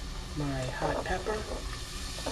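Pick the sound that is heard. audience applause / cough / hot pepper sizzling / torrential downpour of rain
hot pepper sizzling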